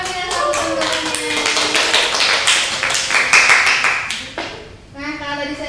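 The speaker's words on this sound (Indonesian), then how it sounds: "Oke, tepuk tangan ya teman-temannya." Students in a classroom clap for classmates in a short burst of close, crisp hand claps that fades out, then a voice speaks at the end.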